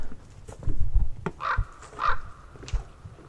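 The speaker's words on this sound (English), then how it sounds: "listen to the birds" Two harsh bird calls ring out in succession near a dock at Pillsbury State Park, fairly close, with a softer call trailing after and faint background noise between them.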